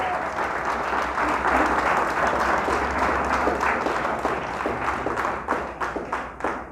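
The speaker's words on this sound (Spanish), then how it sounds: "Dele fuerte el aplauso a Dios." A church congregation claps loudly and steadily during a service, dense applause filling the space for several seconds before thinning into scattered individual claps at the end.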